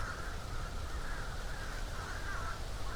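Crows cawing outdoors, repeated harsh caws calling back and forth at a moderate distance over a steady open-air background, with no talking.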